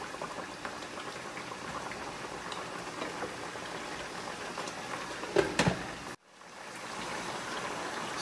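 A pot of chicken curry sauce bubbles continuously at a soft, steady boil. A brief louder splash comes near the end, then a sudden drop before the bubbling swells back. No one speaks.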